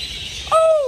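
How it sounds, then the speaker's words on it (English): In an indoor aviary full of parakeets, a quiet hush gives way to one sharp, loud bird call that falls slightly in pitch and then fades within half a second. "different types of parakeets flying all around you"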